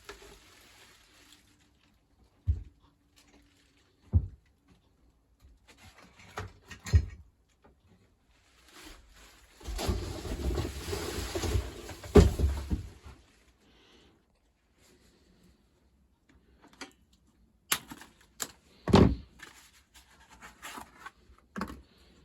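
Packaging is stripped from a bicycle frameset: scattered crinkles, rubs and taps at intervals, with a longer burst of rustling and tearing in the middle, then more sparse handling noises, close and moderately quiet.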